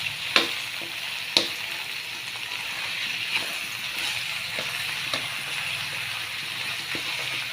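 Cabbage and pork stir-frying in a pan, a steady loud sizzle with a spatula knocking and scraping against the metal every second or so, a few sharp clacks standing out.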